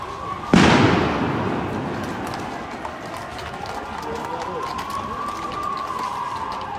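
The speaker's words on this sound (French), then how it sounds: "les gaz lacrymogènes sont en train d'être utilisés à l'encontre des manifestants." A sharp bang of a tear gas grenade being fired at protesters in Brussels sounds once near the start, then a long hissing, crackling wash of outdoor commotion with faint voices and footsteps lingering in the distance.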